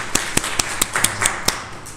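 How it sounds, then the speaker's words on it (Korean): A handful of sharp, separate claps ring out at a church service to welcome visiting congregants from Vancouver, about seven crisp hits at a fairly even pace in a quiet room. "우리 한번 박수로 환영하겠습니다"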